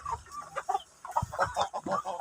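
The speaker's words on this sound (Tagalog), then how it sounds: "Gaya ang ating mga dambuhala, ang mga manok" Large, hungry backyard chickens cluck and squawk in short, irregular bursts close by, several birds calling over one another.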